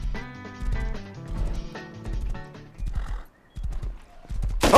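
Hooves clip-clop and a thoroughbred horse whinnies in a video game, with irregular hoof steps and snorts up close, then a sudden loud burst at the end.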